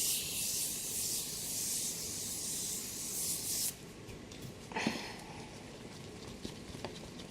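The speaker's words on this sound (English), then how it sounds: "Last thing I do is do my setting spray again." Makeup setting spray hisses steadily for several seconds and stops abruptly, followed by quieter rustling and a soft thump.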